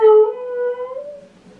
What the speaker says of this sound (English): pretty howls.